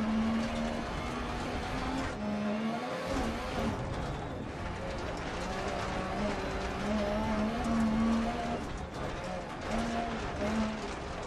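An RX Mini rally car in the video game Dirt Rally slides sideways on a track, its engine droning steadily with rising and falling revs and faint tire scrubbing, under occasional talk.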